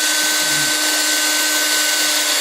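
A power drill spins a polishing rag, giving a loud, steady high-pitched whine that runs unbroken from start to finish with no voices.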